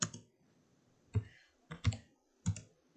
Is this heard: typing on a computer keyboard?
yes